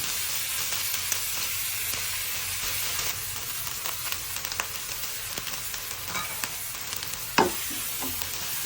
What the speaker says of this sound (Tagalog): Ilagay natin ang talong. Huwag natin ilagay yung sabaw, ha?